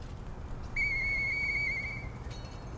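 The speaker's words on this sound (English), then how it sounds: "Hey, that sound. Is that you, Murphy? Close enough. I know that whistle." A single sustained whistle in the video game Lies of P, one clear steady tone lasting over a second over a soft background hiss, with a faint second whistle-like note just after.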